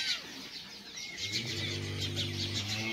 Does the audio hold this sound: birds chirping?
yes